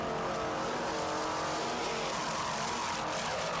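Two 600 horsepower Troy Dennis inboard racing powerboat engines roar loudly and steadily up close, a thick continuous growl with shifting throttle.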